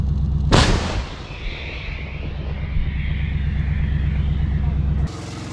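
A single heavy blast from a PzH 2000 self-propelled howitzer booms nearby, followed by a long rolling rumble and roar that fades slowly before cutting off.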